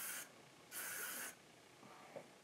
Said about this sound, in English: we're going to use that KMS spray again.